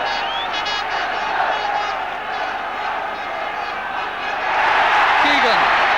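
Football crowd at a Liverpool versus St Etienne European Cup quarter-final second leg, a broad stadium roar under a commentator's voice, swelling louder near the end.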